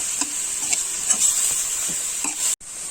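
Pork for Northern Thai larb fries in a pan while a utensil stirs it, with scraping strokes over a constant sizzle before the sound briefly cuts out.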